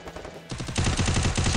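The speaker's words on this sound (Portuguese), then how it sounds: "o Max não sei nem de onde, mano, que ele tava me atirando" Rapid automatic gunfire in the battle-royale game Free Fire during a 2v2 match: a brief lull, then dense, evenly spaced bursts of shots that grow louder and continue steadily to the end.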